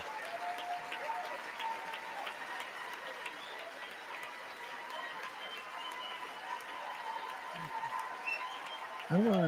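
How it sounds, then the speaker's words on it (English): A State of the Union chamber audience gives a standing ovation, with sustained dense applause and a crowd murmuring throughout, while a voice talks briefly near the end. "He's getting like a standing ovation, bro. Everyone's like cheering about how great he's doing."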